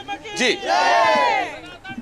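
At the Mahakumbh 2025 gathering, a crowd of pilgrims raises a loud, sustained devotional chant of Har Har Mahadev and Jai Shri Ram, many voices swelling together over background bustle.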